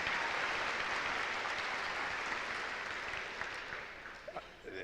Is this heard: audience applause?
yes